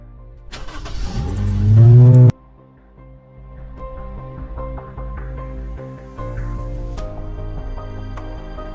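A car engine revs hard and loud for about two seconds, then drops to a steady running hum as the vehicle pulls away. No one speaks.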